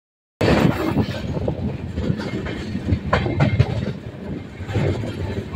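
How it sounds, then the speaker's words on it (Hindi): A superfast train runs between Rishikesh and Ujjain near Muzaffarnagar. A steady loud rumble of rolling stock fills the whole stretch, with rhythmic clickety-clack over the rail joints and no talk. "सुपर फास्ट ट्रेन है योग नगरी ऋषिकेश से उज्जैन"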